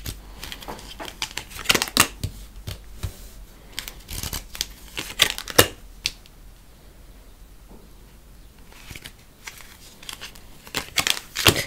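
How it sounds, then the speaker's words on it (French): Tarot cards slapped and slid onto a table one after another, crisp papery snaps and rustles in irregular bursts with a quieter pause in the middle, close and fairly soft, no speech. "je mets les cartes devant vous"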